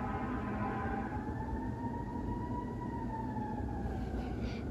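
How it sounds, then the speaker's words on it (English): A wailing emergency siren glides slowly in pitch over a constant low roar of traffic, sustained and fairly close. "Waiting for the sirens to pass."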